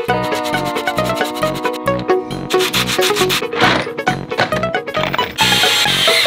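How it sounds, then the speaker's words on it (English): Pine wood is hand sanded in quick, rhythmic back-and-forth strokes, loud and close, with a light tonal hum running underneath. "I'm gonna sand this off a little bit so Fuji doesn't get a splinter."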